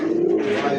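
Pigeons coo steadily at a pigeon farm keeping Bombay and Rajgola breeds, a close, continuous low throaty murmur with no voices.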